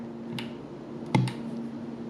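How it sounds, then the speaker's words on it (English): A single sharp plastic click from a Nutribullet blender's sticking latch lands near the middle, with a couple of softer ticks before and after over a low steady hum. "You hear that click?"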